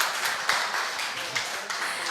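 Audience applause after a historical lecture, a steady dense patter of many hands clapping, fairly close and sustained for about two seconds with no voices.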